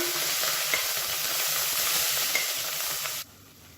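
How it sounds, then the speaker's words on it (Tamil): Mint and coriander leaves with green chillies sauté in hot oil, giving a steady close sizzle with light stirring scrapes throughout, then cutting off abruptly near the end. "புதினாவும் கொத்தமல்லியும் ஓரளவுக்கு நல்லா வதங்கிருச்சு"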